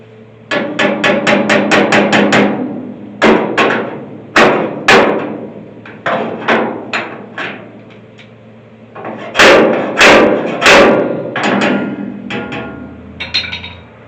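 Loud, sharp hammer blows on sheet metal while a custom rollpan is shaped for a 1972 Chevy C30 dually truck, coming in quick runs of ringing taps separated by brief pauses.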